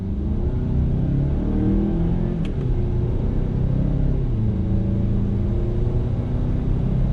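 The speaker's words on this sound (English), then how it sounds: "Let me go ahead and do another on-throttle acceleration test." A 2021 Mazda CX-9 Signature SUV accelerates uphill under full throttle in manual shift mode, its engine a steady close rumble heard from inside the cabin, rising and changing pitch through a gear shift midway, with no talk.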